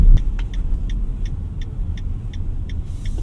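A 2024 Mitsubishi Xforce with a CVT in city driving: a steady low road and engine rumble inside the cabin, with a faint regular ticking running throughout and no shift breaks.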